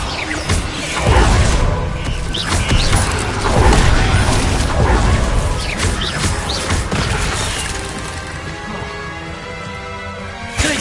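The Descendo spell is cast in the Hogwarts Legacy video game, a loud, busy burst of crashing, whooshing and mechanical rumbling effects. Heavy impacts swell and recede over several seconds, then fade toward the end.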